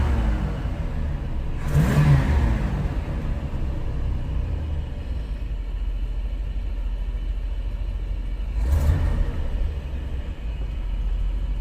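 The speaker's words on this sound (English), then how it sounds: "Let's give it some throttle." A 1980s Winnebago's Chevy 454 engine with a rebuilt Quadrajet carburetor idles with a low rumble, then revs sharply twice under added throttle, each rise swelling and falling back to idle.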